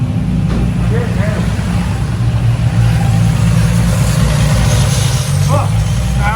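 A G35 car engine with a newly installed lower plenum idles with a low steady rumble, close by, while people talk over it.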